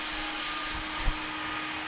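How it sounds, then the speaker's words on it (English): Sanding of logs gives a steady, even broadband whir like a power sander or vacuum, moderately loud and continuous, with a faint low thump near the middle. "The sanding, if that's what you hear, is almost complete."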